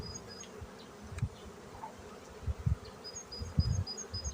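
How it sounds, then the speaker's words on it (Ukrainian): Honeybees hum and buzz around an opened hive during a spring inspection on a sunny morning, a low continuous drone with scattered louder passes close by, no voices. "на крайній рамці є якась бджола"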